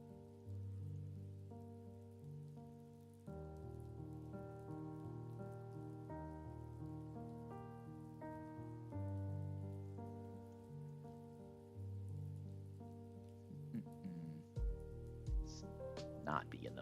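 A rain weather effect hisses softly during a Pokémon video game battle, a steady patter running beneath louder melodic game music throughout, with a few sharper effect sounds near the end.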